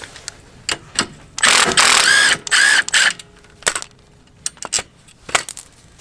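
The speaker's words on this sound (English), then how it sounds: "Then you could take this nut off that holds the lever. I'm going to use the impact as well." Impact wrench on a brake lever nut of a 2020 Harley-Davidson Road Glide Special, several short rattling bursts with a longer hammering run in the middle, close and loud, with small metallic clicks between.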